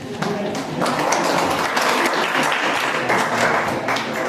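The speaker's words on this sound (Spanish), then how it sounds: "Un aplauso para ustedes." Audience applause at an academic gathering, a dense crowd clapping that builds quickly and stays loud and steady throughout, with speech-like sounds mixed in.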